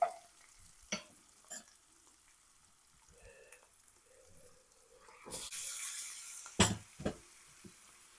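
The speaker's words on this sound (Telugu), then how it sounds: "చికెన్ వేసేసుకొని దీనిలో మంచిగా కలుపుకుందాం." Chicken tossed with mint in a hot pan: sparse, quiet stretches broken by scattered clatters of a utensil, then a louder rush of sizzling and clanking near the end, heard close with no talk.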